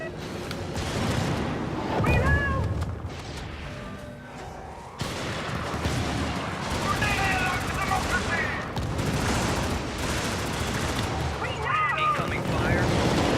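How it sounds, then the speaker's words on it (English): Video game gunfire from a strafing run, with dense, sustained bursts of automatic fire and booming impacts continuing loudly for several seconds amid game noise. "Incoming fire."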